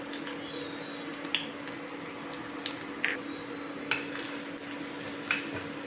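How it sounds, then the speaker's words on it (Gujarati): Garlic, two chillies and bay leaf sputter in a cumin tadka for dal, a faint, steady sizzle broken by a few sharp clinks of a spoon against the pan, with a low hum underneath. "બે મરચાં તમાલપત્ર ઝીણું સમારેલું લસણ એ પણ એડ કરી દેવાનું છે"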